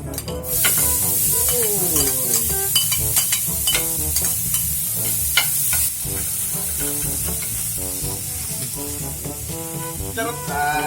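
Sisig fries in a pan with butter, giving a loud, steady sizzle. Frequent scraping strokes from stirring run through it, close up and with no talk.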